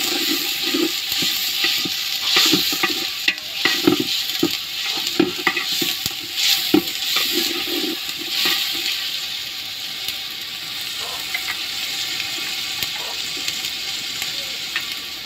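Chopped onion, garlic, bay leaf and green chili sizzle in a pan over a brick stove, a continuous close frying hiss punctuated by repeated scraping and clacking strokes of a spoon as they are stirred.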